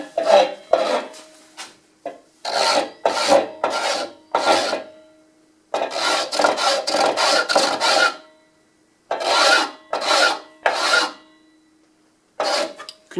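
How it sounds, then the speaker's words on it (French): A wooden spinning top is sanded by hand after turning, producing loud, close rasping strokes in quick bursts with short gaps, the rhythm irregular throughout. "Ce qu'on va faire c'est qu'on va le poncer."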